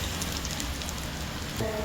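Steady, dense sizzling and crackling of vegetables deep frying in hot oil, continuous and close, with no talking.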